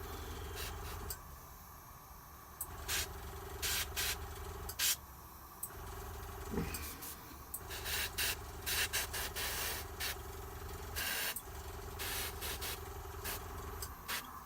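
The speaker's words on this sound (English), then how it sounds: "airbrush is a lovely way of doing the base colours" An airbrush sprays base colours onto a Blood Angel Librarian miniature, giving a steady close hiss broken by short, sharper bursts of spray across the whole stretch, with no talking.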